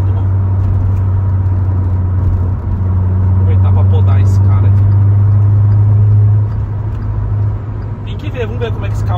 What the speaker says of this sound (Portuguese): vamos ver como é que esse carro se comporta na estrada